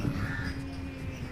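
A crow caws once, faint, over dense low background noise at a boat restaurant in Mangalore.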